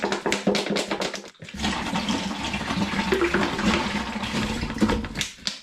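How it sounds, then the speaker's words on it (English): Four litres of cold spring water gush into a big plastic Ritchies fermentation bin, a steady close rushing splash that runs for several seconds after a brief clatter, with no talking. "I'm going to begin by chucking 4 litres of cold spring water into my big Ritchies"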